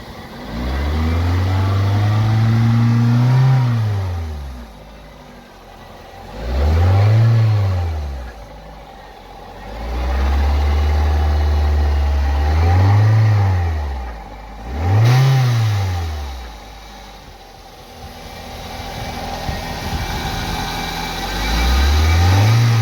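A budget Toyota Celica's engine under the bonnet is blipped about six times, each rev rising and falling over a steady idle, close and loud with no talk.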